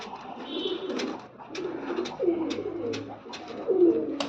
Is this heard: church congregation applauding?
no